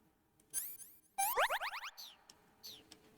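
Springy, rising boing-like squeals in quick bursts, a short one then a rapid series of wobbling tones, ending with a couple of fainter chirps.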